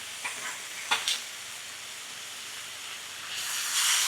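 Ginger beef searing over very high heat on a cast iron griddle gives a soft, steady hiss with a few brief scrapes near the start and a louder sizzle swelling at the end, with no talk.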